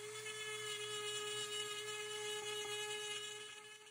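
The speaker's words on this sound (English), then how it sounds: "I'll start carving in the curves with the Kutzall Extreme flame burr" A Dremel rotary tool fitted with a Kutzall Extreme flame burr whines steadily at high pitch while carving a wooden bear, quiet and continuous with no pauses, then easing off slightly at the end.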